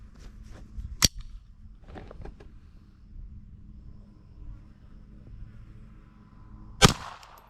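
Cartridges in .22 caliber being pressed into a Browning Buck Mark pistol magazine: two sharp, close metallic clicks about six seconds apart, with faint small rattles and handling noises between them over a low background rumble, and no talking.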